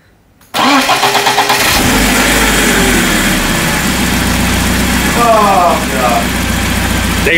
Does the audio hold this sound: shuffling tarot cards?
no